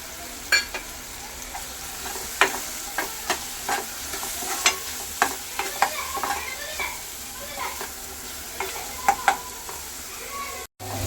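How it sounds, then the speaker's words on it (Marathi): Onion, tomato and spices, including turmeric and Kashmiri red chili powder, fry in a pan with a low sizzle, while a spoon scrapes and stirs in repeated sharp knocks throughout. "आपला कांदा आणि टोमॅटो वगैरे सर्व आणि मसाले मस्त तळून झालेले आहेत"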